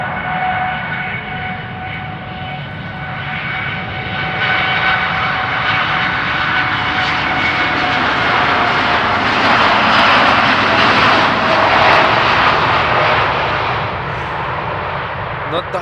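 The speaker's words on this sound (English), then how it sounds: "Does sound like a derated takeoff." A KLM Boeing 787 Dreamliner on a derated takeoff at Amsterdam Schiphol roars loudly and steadily, its engine whine building and peaking mid-clip before easing slightly.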